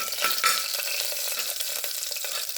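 Fennel seeds, cloves and cinnamon sauté in hot oil for a cauliflower kurma, making a constant close crackling sizzle with small pops and the soft scrape of stirring.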